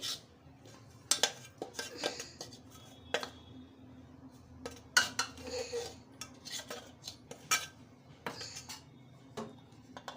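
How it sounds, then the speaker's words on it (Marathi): Cooked rice flour dough is scraped out of a pan into a metal plate, with sharp metallic clinks and scrapes of a utensil against metal coming in irregular bursts, close by and without talk. "आता मी एका परातीत काढून घेत आहे"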